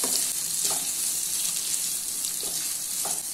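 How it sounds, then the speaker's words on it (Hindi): Onions, green chili, garlic and ginger fry in a kadai over a medium flame, giving a steady close sizzle with a few soft stirring scrapes and no voices. "अभी इसको मीडियम फ्लेम पे 3 से 4 मिनट तक फ्राई कर लेना है, ताकि ऑनियन सॉफ्ट हो जाए।"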